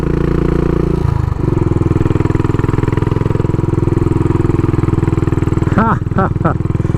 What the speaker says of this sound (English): The 2020 is definitely this 500 single is actually the smoothest running of all of them.